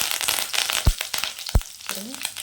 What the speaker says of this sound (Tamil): கருவேப்பிலை சேர்த்துக்கலாம்.